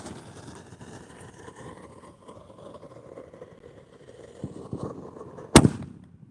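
A firework mortar bursts with a single sharp, loud bang near the end, following several seconds of low rumbling outdoor noise and a rising crackle.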